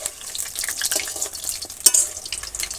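Chops made from shapla (water lily) stalks are frying in oil in a village kitchen, giving a bubbling sizzle with light stirring and scraping and one sharp clink, fairly close and steady, with no talking.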